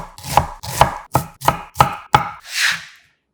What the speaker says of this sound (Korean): 양파 4분의 1개는 칼집 여러 번 넣고 굵게 다져주고